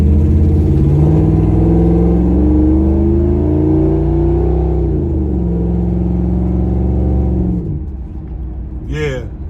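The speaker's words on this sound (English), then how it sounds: "a preview of what the pipes sound like when I take off and when I go" A 1940 Ford-style custom car with a dual exhaust pulls away, its engine note rising in a loud, close rumbling rev before easing off and going quiet near the end.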